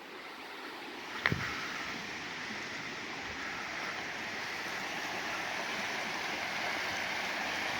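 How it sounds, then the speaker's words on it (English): A small V-shaped waterfall on a stream fed by a lake gives a steady, broadband rushing of water throughout, with one brief knock near the start and no talking. "Nice little like V-shaped little waterfall thing."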